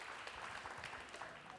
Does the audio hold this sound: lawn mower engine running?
no